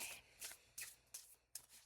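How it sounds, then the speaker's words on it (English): Tarot cards are shuffled by hand, giving four or five crisp riffling bursts in an uneven rhythm. The sound is close and soft, with no voices. "I'm going to pull 2 cards, but I'm going to keep shuffling after the first one"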